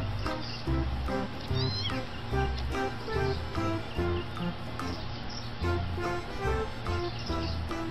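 A mother cat defending her kittens meows and yowls repeatedly at close range over a dense, busy background, with faint chirping mixed in.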